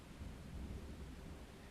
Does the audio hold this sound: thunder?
yes